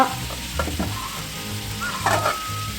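Onions fry in ghee on a home stove, giving a steady close sizzle with a few soft stirring scrapes and knocks against the pan, and no one talking over it.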